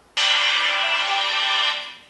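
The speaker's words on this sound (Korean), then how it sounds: "지금 전화도 좀 계속 오기 때문에 또 전화도 돌려야 되거든요" A mobile phone gives a bright, steady electronic tone for about two seconds, loud and close, in an auto body shop during undercoating work on a Honda Accord Hybrid. The tone ends with a short fade.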